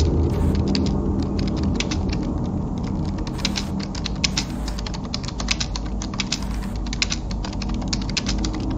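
Steady, rapid computer keyboard typing during a Mario typing video game, with dense clicking keystrokes continuing throughout at close range and no talking.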